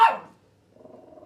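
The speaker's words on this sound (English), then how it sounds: "when she sees another dog, she starts barking." A dog gives one loud, sharp bark outdoors on the Arnside coast, reacting to another dog, then fades into quiet with a faint low rumble.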